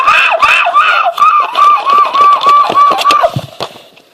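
A voice imitates a seagull, giving a fast run of loud, nasal, squawking yelps in a steady rhythm that breaks off into breathy sounds near the end.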